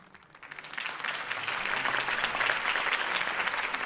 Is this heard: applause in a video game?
yes